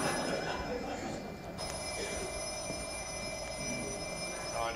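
A telephone rings steadily on stage during a Flemish comedy play, a continuous electronic ring under actors' voices and room ambience.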